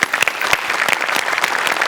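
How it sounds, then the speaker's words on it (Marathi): Loud, dense applause from a studio audience at a Marathi comedy show, a steady close roar of many hands clapping with no talking over it. "तुझ्यासाठी एकदा जोरदार टाळ्या."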